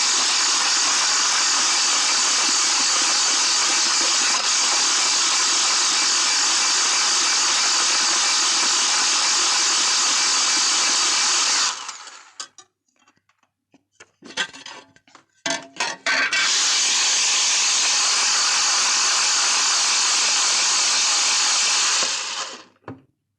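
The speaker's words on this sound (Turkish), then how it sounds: "Sürekli çırpalım arkadaşlar bunu." Electric hand mixer whisking a batter, a loud steady motor whir that runs continuously, cuts out briefly with a few clicks and rattles, then resumes before stopping.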